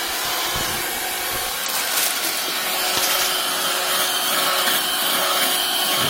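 A car vacuum cleaner (Aspiring Dust 2) motor runs steadily throughout, a loud continuous whirring hum with no pauses or voices.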